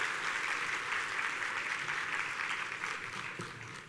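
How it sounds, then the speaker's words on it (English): Audience applause at a high school graduation ceremony, a broad, continuous wash of clapping from a crowd that slowly fades toward the end. "So clap me again now, please."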